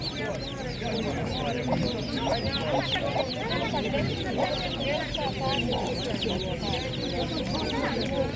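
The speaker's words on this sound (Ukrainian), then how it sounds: "Так, є домашні курчатка." Domestic chicks for sale at an open market peep continuously in a dense, high chattering chorus up close, with people talking underneath.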